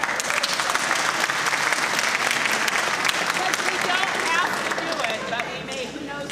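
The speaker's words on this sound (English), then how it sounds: "If so, applaud." Audience applause at a Christmas choral concert, a dense, loud, sustained roar of many hands clapping close by, tapering slightly toward the end.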